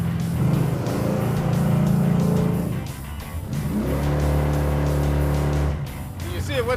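A Dodge Dart with a 440 engine, worn converter and blown rear shocks, revs hard in two sustained bursts with a brief dip between, loud and close, while people talk over it.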